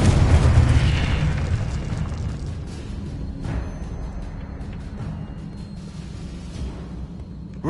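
Confringo blasting spell from Hogwarts Legacy erupts in a loud, deep boom at the start, then rumbles and fades into a lingering low roar with a smaller burst midway, no voices over it.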